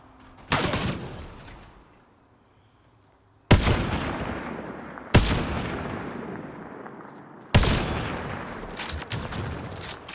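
Sharp gunfire from the sci-fi shooter game Mass Effect: Andromeda, with four loud, separate blasts and long decaying tails, each hit ringing out over a quiet pause between shots.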